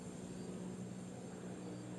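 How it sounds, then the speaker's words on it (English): Helicopters flying overhead along a highway corridor, a steady, droning engine hum with low rotor rumble, constant and moderately distant, with no one talking. "There's a lot of helicopters flying over right now"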